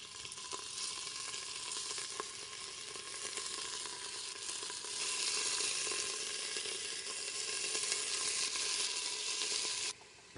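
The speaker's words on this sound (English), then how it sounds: "we need to brown our meat" About two pounds of beef cubes browning in olive oil in a batch, a steady close hiss of sizzling that swells louder midway before cutting off abruptly, with no talk over it.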